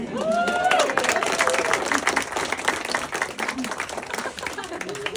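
Wedding guests at a reception give a round of applause for the flower girls, lively clapping from a sizable group with a few voices and cheers mixed in, tapering slightly toward the end.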